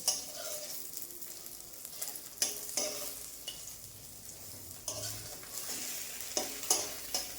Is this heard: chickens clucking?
no